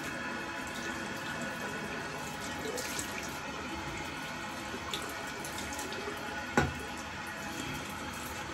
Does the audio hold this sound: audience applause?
no